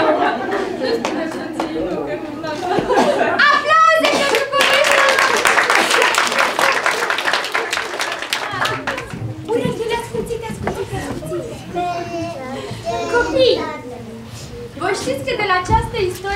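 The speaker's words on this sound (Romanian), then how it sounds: "Aplauze pentru copiii!" Applause for children at a storytelling session swells into a short burst of clapping midway, surrounded by lively chatter, children's voices and laughter that continue after it fades.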